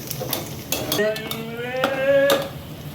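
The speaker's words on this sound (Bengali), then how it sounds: "পেঁয়াজটাকে সুন্দরভাবে একটু মিক্স করে নিই, একটু লাল করে নিই।" Onions and spices are stirred in a cooking pan, a metal utensil scraping and clinking against the pan in a few quick strokes, with a light sizzle underneath.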